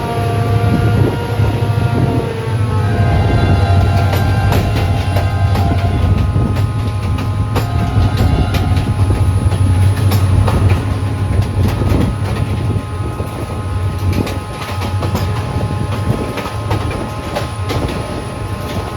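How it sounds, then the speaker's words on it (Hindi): A Pakistan Railways train pulls away from a Karachi colony stop, giving a steady, loud rumble of wheels and rolling stock with faint clatter, continuous throughout and no voices. "तो खैर ट्रिक कॉलोनी से भी अब रवाना हो रही है हमारी ट्रेन"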